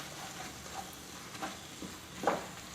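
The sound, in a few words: stirring vegetable masala in a pan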